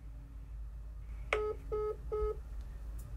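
Telephone keypad tones sound while a call to a television production office is placed, three short evenly spaced beeps, clear and close over a steady low background hum.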